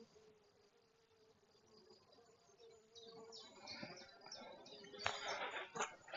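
Honeybees carrying pollen at a hive entrance, a faint, steady buzzing that grows busier and closer with scattered wing flicks, outdoors.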